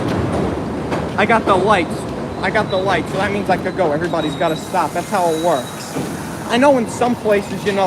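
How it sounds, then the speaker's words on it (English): A train rolls past on a Boro Park street in Brooklyn, a low rumbling under steady close-up talk from a person speaking throughout. "You hear that now? That's the train."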